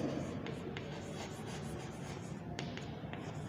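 Chalk or marker writes on a classroom board, faint scratchy strokes and light taps coming in short bursts over a steady low room hum, with no voices.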